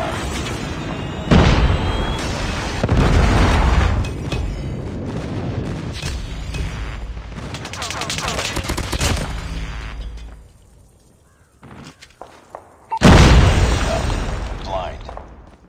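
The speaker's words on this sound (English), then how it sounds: "Friendly airstrike incoming." Explosions from a Call of Duty multiplayer match, heavy booming blasts that roll out one after another, ease off to a near lull, then hit hard again near the end, with game voice callouts over them.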